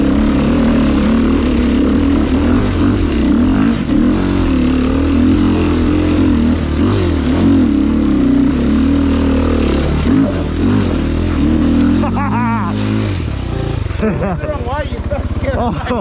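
An enduro motorcycle revs hard as it climbs a hill, a loud continuous engine drone with rising and falling throttle, near and steady throughout, with clattering over rough ground toward the end.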